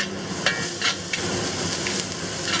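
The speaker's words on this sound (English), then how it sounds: "We'll saute this for about 30 seconds until your onions soften up a little bit." Onions, ginger and garlic sautéing in oil on medium-high heat for fried rice, a steady close sizzle with light scraping stirs and occasional clinks of a utensil against the pan.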